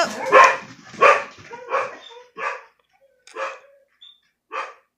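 A dog barks in a series of about seven sharp, close barks, evenly spaced and gradually shorter, with no one talking.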